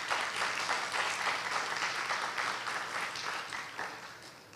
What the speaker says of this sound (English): Let's give one more full round of applause to this amazing orchestra.